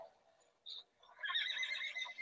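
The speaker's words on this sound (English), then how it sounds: "I hear you hear the horses? I hear them. angry horses." Horses neighing, a faint short whinny followed by a longer, louder shrill neigh, alone against near silence.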